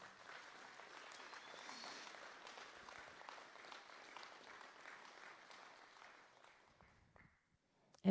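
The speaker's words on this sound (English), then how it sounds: "Give her one more round of applause." A graduation crowd at an adult education ceremony claps in a soft, steady round that carries on for about seven seconds before fading out, heard at a distance.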